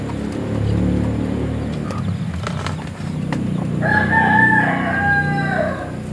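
Backyard pet chickens clucking and murmuring close by, with a rooster crowing loudly in the second half over the flock.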